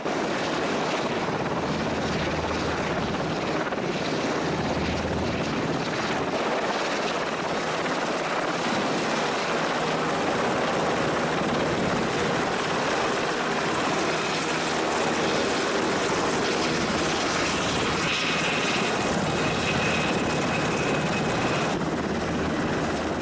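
A US Navy helicopter in flight gives a steady, loud rotor and engine roar that fills the whole stretch without a break, with no voices.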